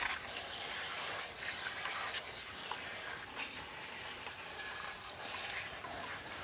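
Car wash with a handheld sprayer misting a BMW 1M, a steady hissing broadband spray running continuously and evenly at moderate level throughout, with no voices.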